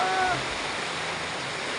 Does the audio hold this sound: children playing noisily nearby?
no